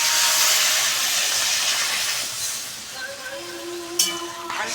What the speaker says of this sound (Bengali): এবার জলটা দিয়ে দিই